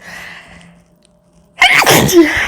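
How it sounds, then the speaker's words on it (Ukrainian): A single sharp, loud sneeze bursts out after a stretch of quiet, preceded by faint background sounds. "не хотіла вам чихати в ефірі"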